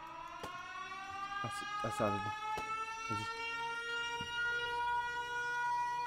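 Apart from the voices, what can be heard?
siren sound in Minecraft video game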